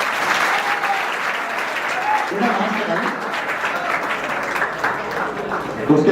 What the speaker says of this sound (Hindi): ताली दो